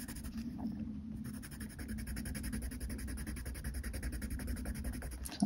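Soft, steady scratching of a coloured pencil moving across paper, close and quiet, with continuous rubbing strokes.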